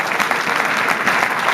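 A church congregation claps and cheers in loud, sustained applause filling the room, with a steady wash of hand claps and no pauses.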